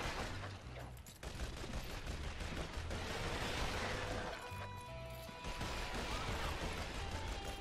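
Sustained rattling gunfire from the player's weapon in the video game Shoot Many Robots, a dense continuous barrage mixed with crashes and explosions against a loud game soundtrack.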